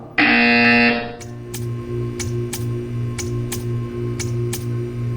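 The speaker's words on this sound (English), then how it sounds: "When you hear the buzzer, stare at the art" In Portal 2, a loud, harsh electronic buzzer blares for about a second, then gives way to a steady mechanical hum with regular ticking clicks.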